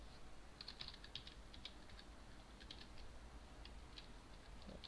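Faint, quick clicking of keys on a computer keyboard, in irregular bursts over a low steady background hum.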